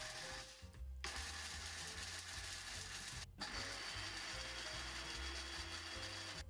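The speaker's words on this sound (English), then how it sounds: "I poured all of the insulation into the blender and turned it on" A loud, continuous mechanical grinding and rattling as a blender chews through chopped plastic cable insulation, with a brief cut in the motor around the middle.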